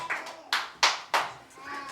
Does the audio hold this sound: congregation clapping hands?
yes